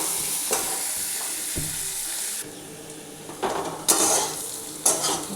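Onion frying in a pan until reddish, for a fish curry with pointed gourd and potato: a loud continuous sizzle, then quieter stretches broken by several clanks and scrapes of a spatula against the pot.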